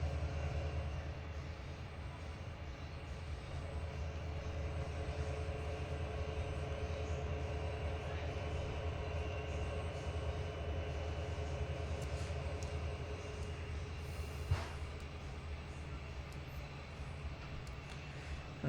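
A train rolling along in the Trainz 2022 railway simulator, a steady low rumble and drone that carries on throughout at a moderate level, with a brief sharp click near the end and no talking.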